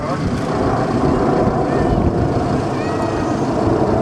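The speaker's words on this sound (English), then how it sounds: "And once again, the jet's about a mile above us." A jet aircraft flies about a mile overhead at the Southport Airshow, a continuous loud roar that holds steady throughout, with a commentator talking over it.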